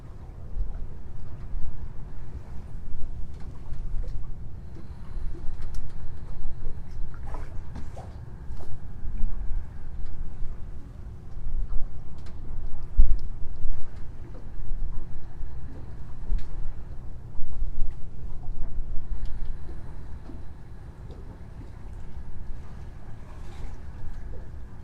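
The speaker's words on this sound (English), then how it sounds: "I hope you can hear the sound of the waves." Ocean waves around the boat Impossible Dream, a low continuous wash with gentle surges and wind noise across the whole stretch, no voices over it.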